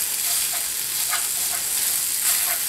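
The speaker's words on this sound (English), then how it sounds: "I'm going to let this sausage brown in my cast iron skillet." Sausage browning in a cast iron skillet gives a steady high hissing sizzle with faint soft pops and light scraping, close and continuous without speech.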